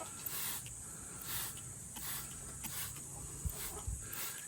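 Oxalic acid rust remover is sprayed from a trigger spray bottle in a few short, soft hissing bursts over a steady background hiss, with faint low knocks near the end.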